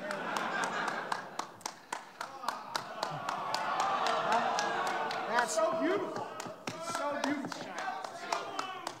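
Scattered audience clapping at a live comedy wrestling show at a gaming convention, with irregular close claps over crowd murmur and people talking.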